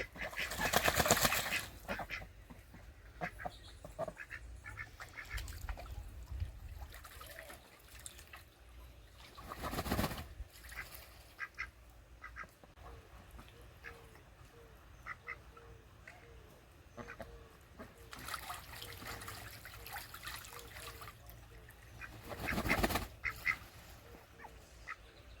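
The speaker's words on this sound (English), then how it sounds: "1 full minute of the ducks enjoying themselves immensely in their pool one recent morning" Pet ducks splash and dabble in their pool on a morning, with soft quacks, water trickles and a few louder splashing bursts, quiet and close throughout.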